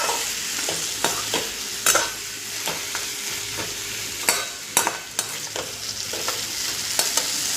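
Eggplant and potato bhaji being stir-fried in a pan, a steady sizzle broken by repeated sharp scrapes and clinks of the spatula, close and fairly loud with no voices.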